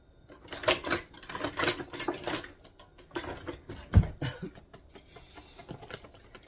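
A whisk beats thin pancake batter made with an Amish starter, rapid clattering strokes against the bowl coming in irregular bursts, with one sharper knock partway through and a few quieter scrapes toward the end.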